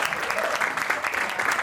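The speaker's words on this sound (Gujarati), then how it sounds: "તો જોરદાર તાળીઓ આશુતોષ માટે." A dense, steady round of audience clapping fills a brief moment at an institute's annual function and prize distribution.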